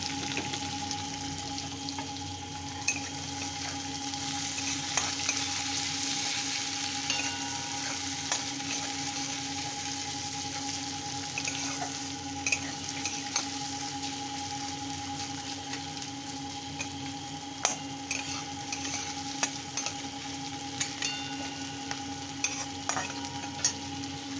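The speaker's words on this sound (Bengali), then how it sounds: "একটু হালকা আঁচেই ভাজছি, মাঝারি মতো আছে।" Fish pieces and chopped onion with a halved green chilli fry on medium-low heat in oil already used for frying fish, giving a steady, close crackling sizzle with occasional stirring clicks, no talk.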